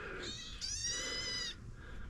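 A cat gives a drawn-out, close meow that rises and holds for about a second, with softer bleating tones before and after against a quiet room background.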